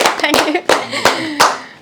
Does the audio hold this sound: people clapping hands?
yes